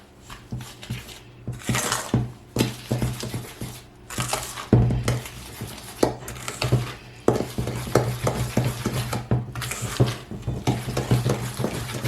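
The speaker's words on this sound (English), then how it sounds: "Okay, and we mix the batter up." A spoon stirs peach cobbler batter of flour and milk in a bowl, scraping and clinking against the sides in steady, repeated strokes, close and fairly loud with no talking.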